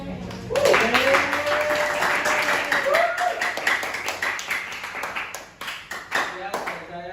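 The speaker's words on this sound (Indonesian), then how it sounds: "tepuk tangan untuk temennya" Students in a classroom clap for a classmate, starting with scattered claps and building into brisk applause, with a few voices heard over it.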